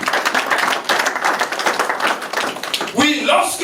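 A church congregation at a French-language seminar applauding: brisk, continuous clapping from many people, loud and close, mixed with raised voices and a shout near the end.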